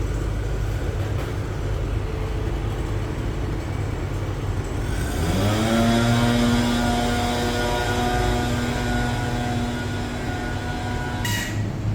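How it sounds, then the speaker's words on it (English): The electric parking brake on a Mercedes-Benz S-Class (S560/S550) whirs into assembly position: a motor hum rises in pitch partway through, then holds as a steady whine before cutting off. "Electric parking brake. Move to assembly position."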